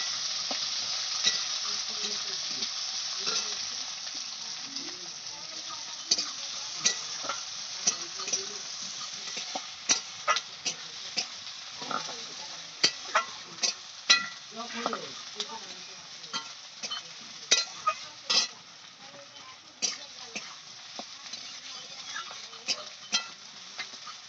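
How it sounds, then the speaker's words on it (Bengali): Chopped onions fry lightly in a pan, a steady, fairly quiet sizzle punctuated by frequent sharp taps and scrapes of a utensil stirring against the metal. "পেঁয়াজটা হালকাভাবে একটু ভেজে নেবো"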